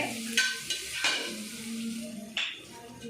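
Garlic with a little salt frying in oil in a pan, a low steady sizzle broken by a few sharp utensil scrapes and stirs, close by with no speech.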